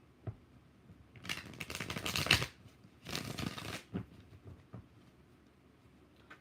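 Tarot cards are shuffled in two long riffling bursts, each about a second long, with scattered light taps and card handling before, between and after them. The shuffling is close and moderately loud against a quiet room.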